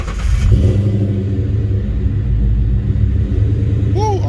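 A Ford Coyote swap engine, suffering a lack of power, runs with a loud, deep, steady rumble close by, holding a fairly even idle throughout with a few brief high chirps near the end.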